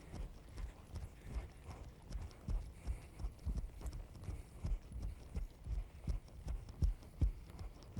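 Hooves of a horse performing a half pass in a schooling session thud softly and rhythmically, a steady, fairly close clip-clop cadence of crossing footfalls, with no voices.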